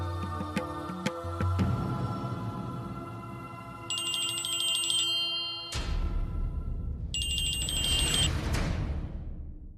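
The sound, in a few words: phone ringing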